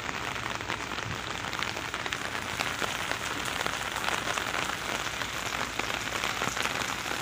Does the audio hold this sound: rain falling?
yes